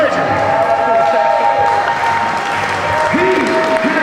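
A crowd at an independent wrestling show applauds and cheers for veteran wrestler George South at his Hall of Fame induction. The applause is thick and sustained across the whole stretch, with a few voices rising near the end.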